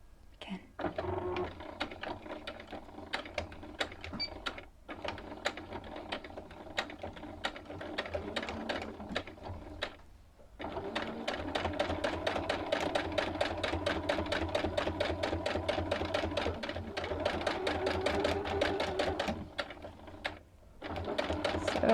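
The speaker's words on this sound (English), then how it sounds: "So just sew this straight until you come to this point." A sewing machine stitches a seam on a blouse made from an AliExpress pattern, running in rapid mechanical bursts with short pauses between runs, steady and close, with faint talk at times.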